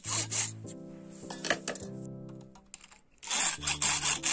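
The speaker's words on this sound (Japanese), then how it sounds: "例によってヤスリがけです。" A file rasps on a plastic part of a capsule Thomas the Tank Engine toy train in short gritty strokes at the start and end, separated by a stretch of tonal background sound, with no talk.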